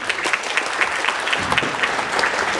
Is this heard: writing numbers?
no